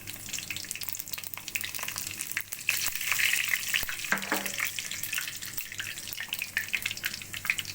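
Panch phoron and dry red chillies crackle and sizzle in hot oil in a kadai over a gas flame, a steady close frying hiss with scattered pops and a brief louder burst midway, no talking.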